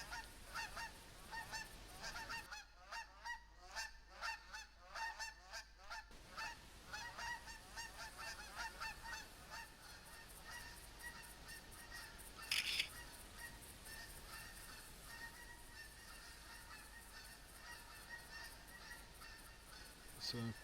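A flock of Canada geese honks repeatedly in the Hirschfelden area of theHunter, a 2016 hunting game, with overlapping calls continuing throughout at moderate distance and a brief gap in the lower sounds early on.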